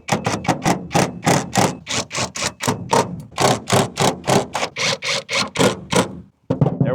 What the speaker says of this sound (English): what I'm going to do is tighten it down in a star pattern